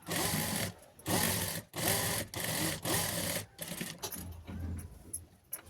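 Sewing machine stitching bedsheet cloth into a round seat cushion, running in several rapid bursts separated by short pauses, then slowing into lighter, uneven stitching toward the end, close and clear with no talk.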